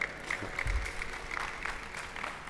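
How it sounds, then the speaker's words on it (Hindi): Brief burst of audience applause at a yoga and diet session, clapping rising and fading over a couple of seconds amid room noise. "जोरदार तालियां हो जाए भाई"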